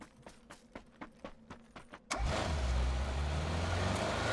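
A basic car in PUBG: a few short clicks and taps give way to a loud, steady engine drone as the vehicle starts and drives on, continuous to the end.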